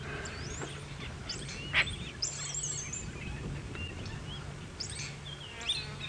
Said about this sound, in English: It's nice just sitting listening to the different birds.